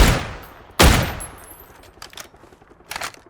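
Sharp gunshots from PUBG, a couple of loud close bangs followed by quieter, more distant shots echoing.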